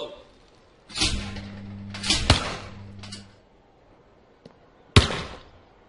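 Trap shooting in the London 2012 game: a few sharp shotgun cracks with short ringing tails, two close together near the middle and another later, fairly loud against a quiet background with a low hum between.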